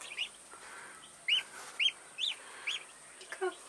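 One-day-old ducklings peeping close by, a handful of short, high, bright calls spaced irregularly over a quiet background.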